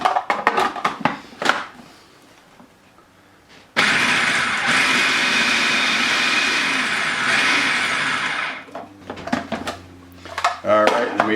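A food processor pulses tomatoes, onions and garlic for salsa, letting out one loud, steady motor whir for about five seconds, with clinking and kitchen handling sounds before and after.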